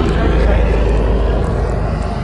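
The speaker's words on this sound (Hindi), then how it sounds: "दो दो हेलीकॉप्टर आ रहे हैं भाई, एक ये गया, एक ये है पीछे, देखिए।" Two helicopters fly past near Kedarnath, giving a loud, steady rotor and engine drone that fills the scene while someone talks over it.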